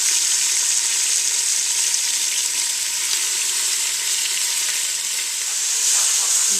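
Onions, tomatoes and vegetables sautéing in a soup pot, a loud continuous hiss of frying that holds evenly throughout with faint stirring underneath.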